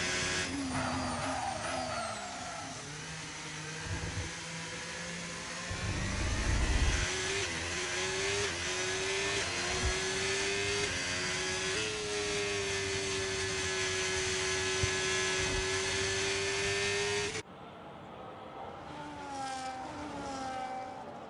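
A Haas Formula 1 car screams at high revs through gear changes in a race, its pitch stepping up and down in a steady, continuous whine heard from a distance, with a brief cut to a quieter scene near the end.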